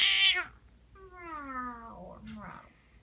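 A cat meows several times, a sharp high cry followed by longer, lower drawn-out meows, close and fairly quiet against a calm indoor background.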